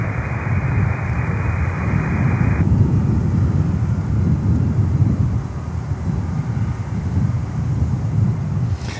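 DHL Boeing 767-300 cargo jet with Panamanian registration, heard as a steady low engine rumble mixed with wind buffeting on the microphone, continuous and fairly loud with no talk.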